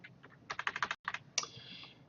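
Quick bursts of keystrokes on a computer keyboard, close and fairly quiet, a cluster of taps, a brief pause, then more typing ending in a single sharper click.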